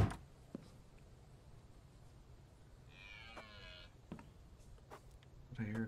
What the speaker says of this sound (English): Did I hear a cow?